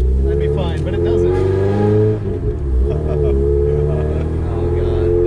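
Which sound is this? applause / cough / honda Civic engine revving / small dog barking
honda Civic engine revving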